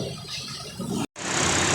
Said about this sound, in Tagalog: Tapos bumomba.